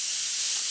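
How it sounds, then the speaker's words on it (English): A brand-new aerosol can sprays onto a plastic miniature model, giving a steady, loud, close hiss that holds evenly for under a second. "You can see that I'm using a brand new can of air"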